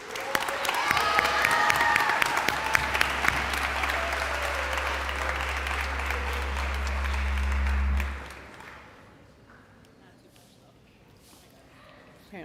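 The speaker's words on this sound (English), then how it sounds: "Let's give all of you a round of applause." A high school graduation audience at Twin Cities Academy applauds loudly for the seniors, with steady dense clapping and cheering over a low hum that swells and then fades to quiet near the end.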